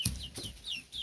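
Garden chickens clucking close by: a few quick, soft clucks in a short burst.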